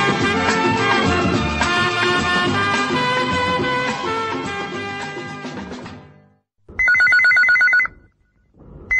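Film music on a radio phone-in request show fades out, then a telephone rings once in a short electronic trill before falling silent.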